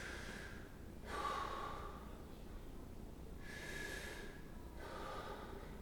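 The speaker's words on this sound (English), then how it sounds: "Deep breath." A patient breathing in deeply for lung auscultation during a health assessment: two soft, airy breaths a few seconds apart, close and fairly quiet, with no talking.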